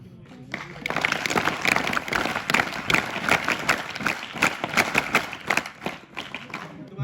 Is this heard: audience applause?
yes